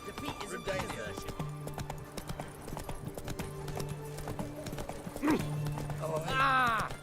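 Hooves of the horse Roach clip-clop in a steady trot through a town street in The Witcher 3, under a murmur of crowd chatter and occasional voices, with a brief whinny near the end.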